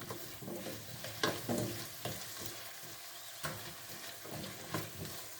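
Potatoes cooking in a covered pot on the stove, giving a steady bubbling sizzle with soft, irregular knocks and pops rising above it.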